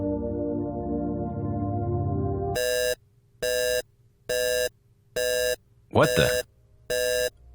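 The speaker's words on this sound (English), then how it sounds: "What's that alarm for?" An electronic alarm beeps in six evenly spaced loud pulses after some music, with a brief voice cutting in between beeps.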